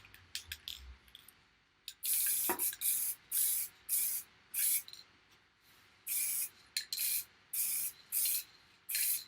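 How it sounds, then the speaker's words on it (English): Finish sprayed from an aerosol can onto a wood-turned platter off the lathe, heard as a series of loud, close hissing bursts of about a second each, separated by brief pauses, after a few faint clicks and rattles. "Now here that's dry. We can go ahead with the spray."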